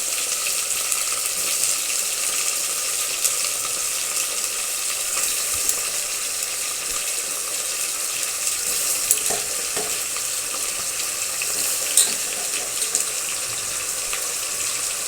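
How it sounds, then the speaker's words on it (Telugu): Pieces of bitter gourd fry in a pan with green chillies and onion, giving a steady, close hiss and sizzle throughout with occasional faint clinks of stirring. "ఇప్పుడు కాకరకాయ ముక్కలు వేసుకోవాలండి."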